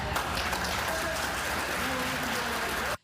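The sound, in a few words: applause at a city council meeting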